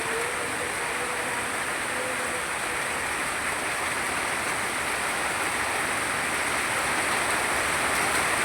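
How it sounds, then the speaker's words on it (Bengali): Heavy rain pouring down outdoors, a dense, even wash of noise that stays constant and moderately loud throughout with no talk. "এখন প্রচুর পরিমাণ বৃষ্টি নামছে রে বাবা"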